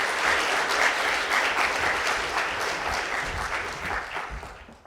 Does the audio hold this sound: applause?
yes